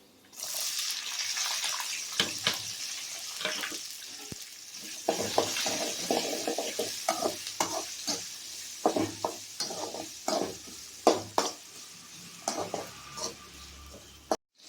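Manathakkali seeds and small sambar onions frying in a pan: continuous close sizzle with frequent spoon stirs and scraping clatters that grow busier toward the end, no voices.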